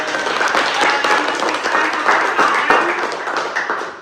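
Hand clapping at the close of an academic teaching session, a steady run of claps filling the whole stretch at moderate loudness, with no voices over it.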